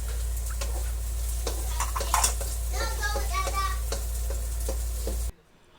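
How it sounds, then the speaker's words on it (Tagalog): Garlic sautéed in a pan for pancit bihon guisado: a steady close sizzle over a low hum, with scattered spatula clicks and scrapes, ending abruptly. "So, ilagay na po natin ang bawang. Gisa po natin ng maigi."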